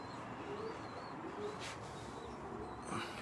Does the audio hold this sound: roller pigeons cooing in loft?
yes